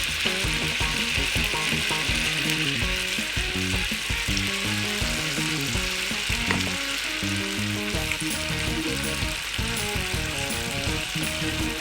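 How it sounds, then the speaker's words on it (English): Onion rings fry in hot oil at a street-food stall, a loud, constant close-up sizzle and crackle that runs without a break throughout, with faint clinks and stirring beneath it. "Now we will try the onion rings to fry."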